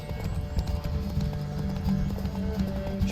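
Horse hooves gallop in a steady, rapid clip-clop rhythm in The Witcher 3: Wild Hunt, close and continuous over a low ambient rumble.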